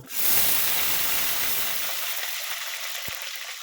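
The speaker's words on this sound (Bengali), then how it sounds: "শিমটা আমি একটু ভাজা ভাজা করে নেব" Oil hisses and sizzles steadily as green beans fry in a wok, loud at first and slowly settling into a softer crackle.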